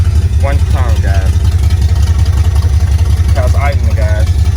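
A Ford Mustang II idles with a loud, steady low rumble that runs through the whole stretch while someone talks over it.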